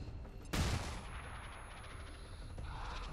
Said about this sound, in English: I'm just going to flashbang.